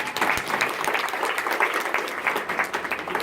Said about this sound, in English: So round of applause now quickly.